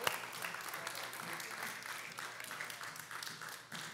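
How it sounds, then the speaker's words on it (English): A church congregation claps steadily in a dense, continuous round of applause that holds at an even level, with the room's reverberation behind it. "Let's give them a round of applause."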